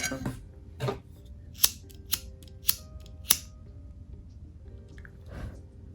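Scissors snip through macramé bracelet threads, including shiny lurex strands, in a few sharp, close, distinct cuts spaced about half a second apart in a quiet room.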